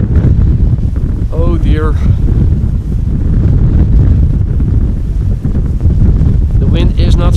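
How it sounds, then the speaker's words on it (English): Strong crosswind buffets the microphone at Amsterdam Schiphol Airport, a loud continuous low roar and rumble throughout, with a person speaking briefly near the start and end. "The wind is not slowing down by any means."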